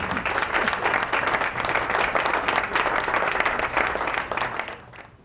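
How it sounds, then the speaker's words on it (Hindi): An audience at an Islamic question-and-answer quiz event applauds, with dense, sustained clapping for about five seconds that fades out at the end. "तालियां हो जाएं।"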